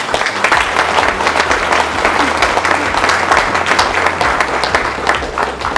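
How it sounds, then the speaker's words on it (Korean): An audience at a Korean-American leaders' conference applauds to welcome a guest, dense continuous clapping from a large crowd, loud and sustained throughout. "우리 큰 박수로 환영해 주시기 바랍니다"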